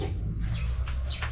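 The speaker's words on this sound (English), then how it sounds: "Chicken house." Chickens in a village chicken house give several soft clucks at a few paces, spread across a steady low rumble of background noise, with no talking over them.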